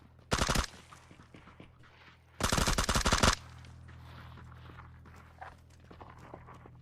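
Video game gunfire: a short, loud automatic burst followed a couple of seconds later by a longer rapid volley, both standing out sharply over a low steady background hum.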